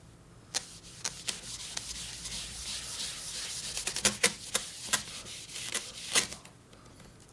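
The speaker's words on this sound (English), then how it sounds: "I hate that this eraser keeps getting caught on the edges." An eraser rubs chalk off a surface coated in chalkboard paint, making a steady close scrubbing hiss broken by sharp catches and ticks as it snags on the edges.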